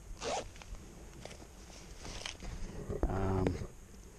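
Zipper on a padded backpack pocket pulled open, a brief rasp early on followed by a longer, louder ripping zip near the end, close and alone without talking.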